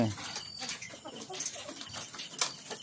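Chickens on a farm squawk and cluck in a noisy, agitated flurry as a python coils around them, with sharp cries breaking through a busy background.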